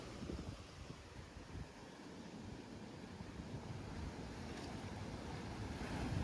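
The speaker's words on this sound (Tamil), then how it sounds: "அலைய பாருங்க அப்படி வருது" Sea waves rolling in at a rocky beach at Mirissa, Sri Lanka, a steady broadband wash of surf with wind buffeting the microphone and no talk.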